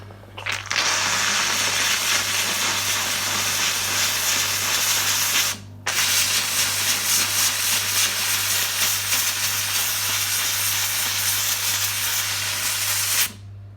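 Steam cleaner hissing loudly and steadily while cleaning tile grout, one continuous close blast that cuts out briefly near the middle and then resumes, with a low steady hum underneath.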